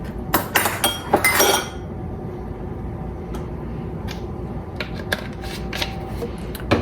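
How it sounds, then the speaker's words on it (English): A spoon clinks quickly against a glass while vanilla is stirred into milk for an old-fashioned egg custard pie, a burst of bright rattling taps, then quiet with a few scattered clinks. "I'm going to actually put my vanilla into my milk here. Mix that up"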